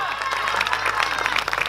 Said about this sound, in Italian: Quindi un applauso.